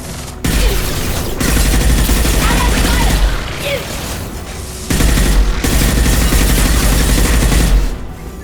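Rapid bursts of automatic gunfire from combat in the video game Mass Effect, loud and dense, in two long volleys separated by a brief lull, with booming impacts and game voice callouts mixed in.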